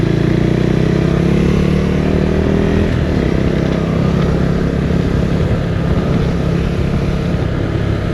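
Motorcycle riding a twisty backroad turning from asphalt to gravel, its engine droning loud and steady close up with constant wind and road noise throughout.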